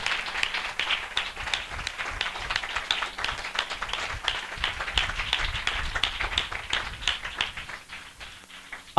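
Church congregation at a spiritual revival assembly clapping loudly in welcome, dense rapid claps from many hands sustained for several seconds and tapering slightly near the end, with no voices over it.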